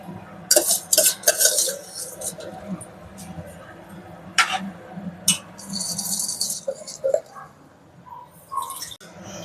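Soaked and drained basmati rice going into a pot for prawn biryani, with scattered rattling, scraping and clinking of grains and utensils against metal while a voice talks over it.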